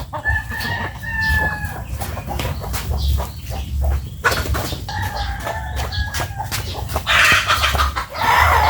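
Stressed chickens cluck and call close by, with sharp bursts and drawn-out squawks repeating over several seconds against a busy outdoor background, with no voices.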